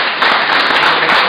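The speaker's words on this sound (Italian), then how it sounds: "se lo accogliamo con un applauso" Audience applause at a public event in Lucera, heard as a steady wash of clapping that runs the full length of the clip, with no clear pauses.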